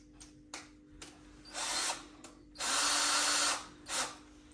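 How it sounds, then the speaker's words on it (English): Short bursts of a battery drill whirring as it drills through wall tile, the longer runs grinding steadily, with brief pauses between each burst. "To use, we're going to be using a battery operated drill"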